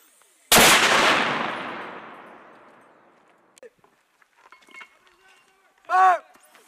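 A mortar round fired during a call-for-fire drill by airborne soldiers, one sharp loud blast with a long decaying rumble, followed by faint clatter and a brief shouted voice.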